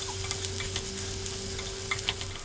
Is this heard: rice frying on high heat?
yes